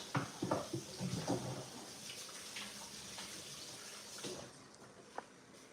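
Beef chunks trimmed of fat rinsed briefly under a running kitchen tap, a steady soft hiss of flowing water with a few splashy spatters at the start, fairly close, no talk.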